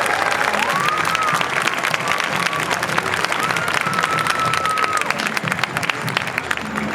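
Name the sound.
audience applause at Boston Tuba Christmas concert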